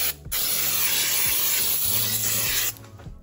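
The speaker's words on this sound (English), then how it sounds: "I'm still gonna spray a light layer of pan baking spray first." Pan baking spray hisses from a can into a cake pan in one steady burst of about two and a half seconds, close and fairly loud, with light clatter underneath.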